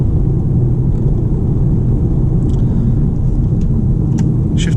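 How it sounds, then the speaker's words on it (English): Low, steady engine rumble from a VW Golf R on a night drive as it shifts down a couple of gears, a continuous close drone with faint higher clicks, and no talking. "Shift down a couple of gears."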